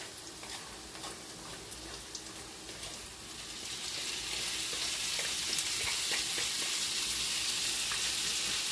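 Garlic and shallots hit a tagine pan with softened carrots, starting as a light crackle with scattered ticks and swelling into a dense, loud sizzle after about four seconds.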